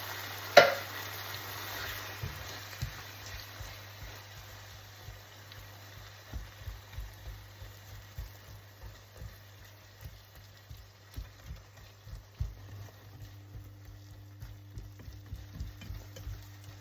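Egg omelette with sardines frying in a pan, giving a steady sizzle with repeated soft clicks and scrapes from stirring over about seventeen seconds, fairly close and moderately quiet, with no talking.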